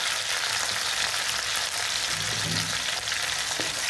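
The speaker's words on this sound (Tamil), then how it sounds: "கடுகு பொரிஞ்சிருச்சு, நல்லா வதக்கிக்கலாம்." Onions and green chillies sauté in oil with popped mustard seeds, a dense, loud, close frying hiss that holds steady throughout with faint stirring underneath and no voices.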